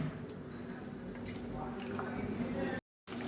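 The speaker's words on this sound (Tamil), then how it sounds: "மசாலா எல்லாமே சேர்த்து நல்லா அப்படியே தலை தலன்னு கொதிச்சுட்ருக்கு" Chicken curry with masala paste bubbling in a pot, a steady low simmer with soft wet plops and squishy bursts running continuously at moderate volume, with a brief dropout near the end.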